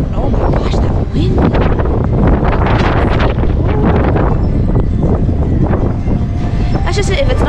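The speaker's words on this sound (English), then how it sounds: "Oh my gosh, that wind!" Strong gusty wind roars loudly and continuously into an outdoor microphone on a cold day at Disney, buffeting throughout with faint voices mixed underneath.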